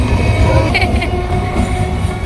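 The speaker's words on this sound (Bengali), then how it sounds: "ট্রেন ওটা" A train rumbles past close by, loud and steady, with a brief high horn-like tone partway through.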